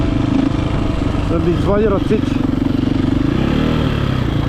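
Enduro motorcycle engine running close by with a steady, throaty drone that swells slightly, while someone talks over it throughout.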